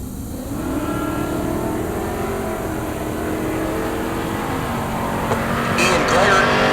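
Race cars at a Heartland Park Topeka drag race, a Jeep with AMC power and a Porsche among them, roar steadily with engine noise throughout, rising near the end, while an announcer talks over it.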